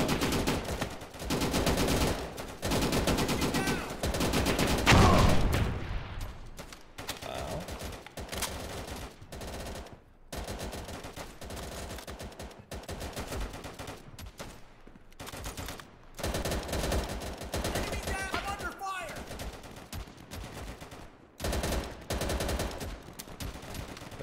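Sustained gunfire in the World War II shooter Easy Red 2, set at the Battle of Anzio, keeps up dense rifle and machine-gun bursts for about twenty seconds, loud and close with a few short lulls.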